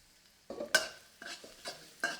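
Garlic sizzles in hot oil in a wok in bursts, rising and falling in several waves as it is stirred, close and fairly loud with scraping utensil sounds.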